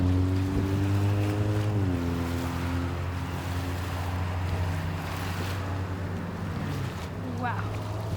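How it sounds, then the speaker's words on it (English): Strong wind and surf pound a beach during a wind storm, a loud continuous roar with a low droning tone underneath, while people talk over it. "Wow, there's a lot of waves."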